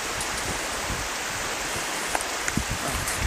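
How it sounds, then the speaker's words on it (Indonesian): Steady rain falls outdoors near a river, a dense broadband hiss with a few sharper drops tapping near the end, continuous and fairly loud with no talking. "berhenti kok ada hujannya nih"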